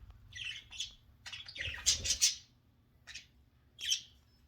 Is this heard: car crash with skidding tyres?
no